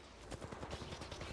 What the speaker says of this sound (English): Just start shooting bullets. Start shooting right now.